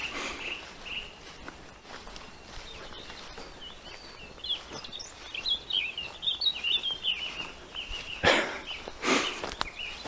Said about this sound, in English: we're getting further away from the song thrush